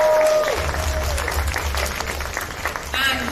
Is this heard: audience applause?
yes